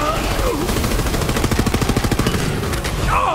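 A rapid, loud burst of automatic gunfire aimed at a tentacled boss in Borderlands 3, about a second and a half of evenly spaced shots, close and punchy, with game effects around it.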